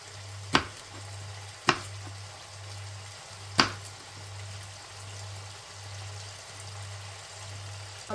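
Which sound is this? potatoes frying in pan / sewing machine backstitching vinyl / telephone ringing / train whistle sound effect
potatoes frying in pan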